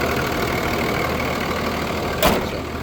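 A 2004 Dodge RAM 2500 with a Cummins 24-valve diesel engine and no EGR idles up close, a loud, steady knocking rumble throughout with a brief louder burst near the end.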